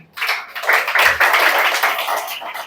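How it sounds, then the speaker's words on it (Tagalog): A church congregation at a Sunday service bursting into applause, a dense wash of clapping that swells quickly and holds steady for a couple of seconds. "Kaya palakpakan natin ang Panginoon sa umaga pong ito."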